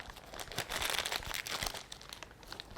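A plastic piping bag filled with cupcake icing is squeezed and pushed down to force out air, producing close, crinkly rustling and crackling in short bursts for a few seconds.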